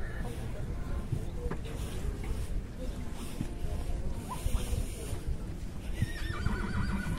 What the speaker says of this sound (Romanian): Ce cal frumos.